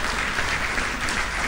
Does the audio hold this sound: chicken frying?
no